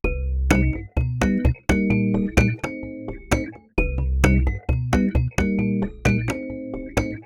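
Electric piano chords from UVI's Attack EP88 sample library, with mono mic and contact pickup sounds, played one after another in an even rhythm, bright and slightly plinky, each note ringing briefly before the next.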